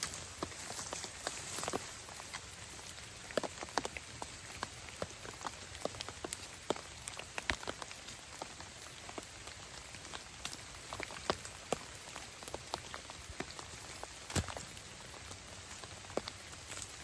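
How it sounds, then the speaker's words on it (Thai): Steady rain pattering on surfaces outdoors while bamboo shoots are gathered in the countryside, with dense scattered drops and occasional sharper taps, moderately faint and continuous with no talking. "ฝนลงแล้ว"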